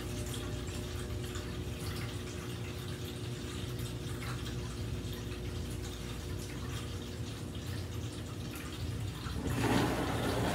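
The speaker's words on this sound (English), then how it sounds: "it's loading the water. Man, that is quiet." A Hava mini portable dishwasher draws in water with a quiet, steady rushing hiss that swells slightly louder near the end.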